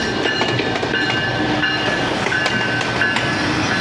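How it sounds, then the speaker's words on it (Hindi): Musa Pak Express train pulling into Sahiwal railway station in Pakistan, a steady loud rumble of railcars with rhythmic clickety-clack of wheels on rails and faint metallic squeals, no talking. "साहिवाल रेलवे स्टेशन पे पहुँची तो अच्छा एक्शन मिल गया"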